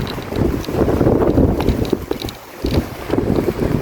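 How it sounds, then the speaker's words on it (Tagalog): Strong gusts of wind rumble and buffet the microphone continuously while cycling outdoors in Poland, with a brief lull midway before the blustery roar returns. "Bike na tayo, medyo mahangin ngayon."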